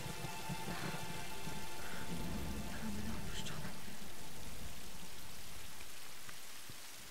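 Steady rain pours down in Tomb Raider (2013), a dense hiss of drops with low rumbling underneath, continuous and fairly loud before easing slightly at the end.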